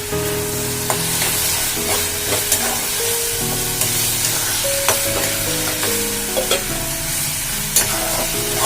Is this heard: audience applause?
no